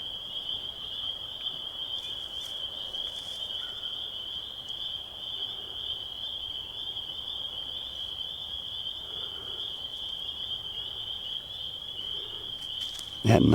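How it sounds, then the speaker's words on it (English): A dense, loud chorus of frogs calls outdoors at night, with a sustained high-pitched trill running unbroken for the whole stretch and a brief thump at the very end. "listen to these frogs going"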